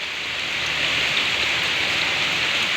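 Steady rain falls continuously with a dense, even hiss of drops, no pauses and no voices.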